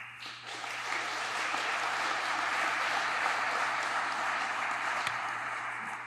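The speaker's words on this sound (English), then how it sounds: "But let's give all of you a round of applause too." Steady, sustained applause from an audience at a chief fire officer graduation ceremony, many hands clapping evenly at moderate distance for several seconds without pause.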